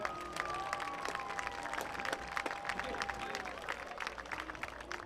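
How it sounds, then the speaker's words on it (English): Applause from an audience, a steady patter of many hands clapping at moderate distance, with a faint tone gliding beneath it. "How about a round of applause for our Res Life team?"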